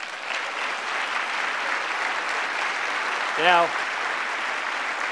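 An audience at a South Carolina Republican Silver Elephant dinner stands and applauds an honored guest. The clapping is a continuous, even roar from many hands, and a single voice speaks briefly partway through.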